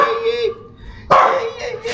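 Puppies at a night market: high yips and barks in two close bursts, loud and near, with a brief quiet gap between them.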